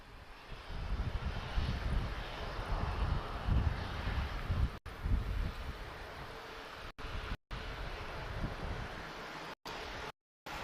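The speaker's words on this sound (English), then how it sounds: "It's an A320, Tango November, Quebec, and he's arriving from Stockholm." A TAP Portugal Airbus A320 arriving at Lisbon Airport from Stockholm, its engines a broad, loud roar with wind noise, with a few brief dropouts near the end.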